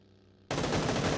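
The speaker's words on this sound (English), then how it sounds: "Prod's about to go shoot Tinder." Loud gunfire from a video game bursts in abruptly after half a second of near silence, then continues as a dense, rapid volley.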